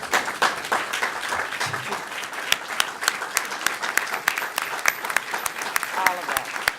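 Sustained applause from an audience of women at a Women's History celebration, a dense wash of claps with sharper individual hits, and voices faintly mixed underneath.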